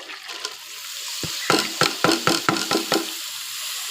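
Potatoes and fish fry in a pan for a Bengali potato dish, with a steady sizzle broken by a burst of about seven sharp stirring scrapes.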